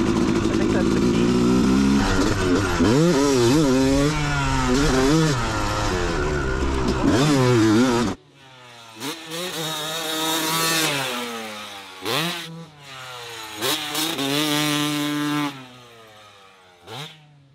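A motocross dirt bike revs loudly at the Okeechobee MX track, its engine pitch rising and falling in repeated surges. Midway the sound drops back to quieter, more distant bursts of throttle with short gaps between them.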